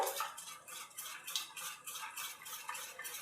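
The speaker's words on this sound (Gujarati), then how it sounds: "એકદમ 2 મિનિટ માટે આપણે આવી રીતે ફેટી લેવાનું છે" Rapid, rhythmic whisking of semolina and gram flour dhokla batter in a bowl, a steady scraping beat of a utensil against the sides, close and fairly quiet.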